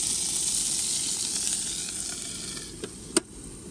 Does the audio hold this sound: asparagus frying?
yes